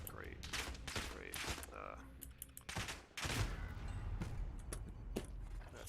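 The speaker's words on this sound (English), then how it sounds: "they're all shooting at me" Rapid bursts of Call of Duty gunfire crackle through a multiplayer firefight, shots from several enemies overlapping in loud volleys with brief pauses, under faint talk.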